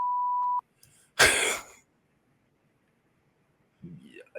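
A steady electronic censor beep tone sounds clearly for about half a second, followed by a short burst of noise and then a brief, faint voice near the end.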